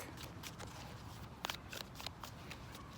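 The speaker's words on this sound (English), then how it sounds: "I'm just shuffling the deck" Soft riffling and flapping of cards being shuffled, quiet and close, with a few sharper bursts midway.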